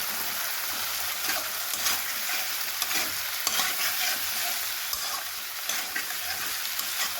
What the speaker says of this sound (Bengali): ভাজা ভাজা হবে, তারপরে মশলাটা দিয়ে দেবো।